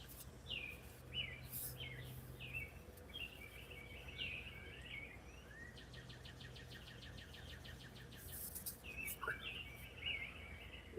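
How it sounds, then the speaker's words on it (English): Small birds sing and chirp through a quiet morning outdoors, with repeated short high calls and a buzzy trill, moderately distant and steady over faint background hum. "Y'all need to be listening to the birds singing."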